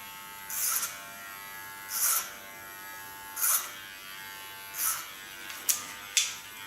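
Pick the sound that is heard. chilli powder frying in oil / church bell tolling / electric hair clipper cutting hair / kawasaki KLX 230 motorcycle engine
electric hair clipper cutting hair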